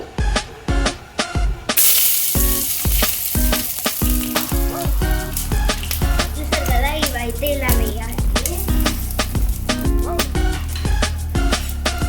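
Whole spices and curry leaves drop into hot oil and burst into a loud, continuous sizzle after a brief opening of rhythmic clatter, with the frying hiss filling the rest of the clip.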